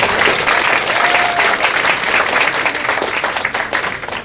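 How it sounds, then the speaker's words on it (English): A school audience gives student council a round of applause, a loud, dense burst of clapping that holds steady for several seconds before easing slightly. "I want to give a round of applause for student council."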